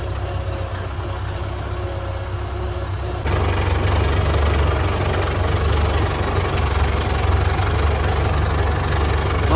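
A water pump motor used for irrigating a potato field runs with a steady, loud low drone that jumps up a step in level about a third of the way through and then holds constant.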